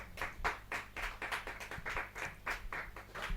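Clapping from an audience at a Hindi comic poetry gathering (kavi sammelan), a steady run of hand claps lasting a few seconds without voices.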